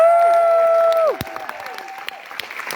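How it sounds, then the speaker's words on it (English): An audience at a company launch event breaks into applause and scattered cheers after a sustained tone fades, the clapping continuing as a soft, busy patter for the remaining seconds. "Can we give our events team a round of applause?"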